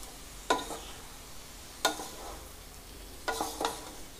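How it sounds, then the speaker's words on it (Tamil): Cooked rice being stirred gently in a pan for omelette rice, with three soft scraping strokes spaced about a second or more apart over a quiet background. "சேர்த்ததுக்கப்புறம் இப்படி மெதுவாக இப்படி சாதம் உடஞ்சிராமல் இப்படி கிளறி விடணும்"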